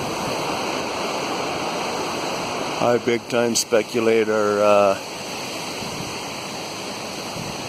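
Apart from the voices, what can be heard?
river water rushing in spring runoff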